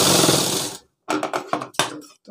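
A sewing machine stitches a shirt sleeve in a loud, close whirring run that stops, then restarts as shorter rattling bursts separated by brief pauses.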